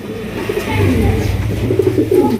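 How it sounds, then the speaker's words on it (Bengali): A pair of Jhorna satin pigeons coo steadily at close range, low soft calls repeating through a faint background murmur. "দেখতে পাচ্ছেন চমৎকার হাই কোয়ালিটির একজোড়া ঝর্ণা শার্টিন কবুতর"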